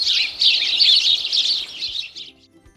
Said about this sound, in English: Sparrows live in flocks, being very loud birds.